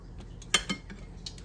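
A grill pan is handled in a home kitchen, giving a few quick metallic clinks and a scrape close by, with brief gaps between them.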